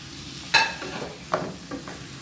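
Sliced onions and spices are stirred in a frying pan for an egg kuruma: three spoon scrapes against the pan, spaced under a soft, steady sizzle.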